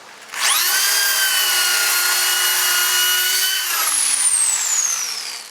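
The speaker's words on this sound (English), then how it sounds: "I used a disc like this, and I just roughed up, I actually removed all the paint along this edge here" An abrasive disc on a power tool strips paint from a 1994 Chevrolet S10 truck firewall, spinning up to a loud steady whine for about three seconds, then winding down and fading on its own.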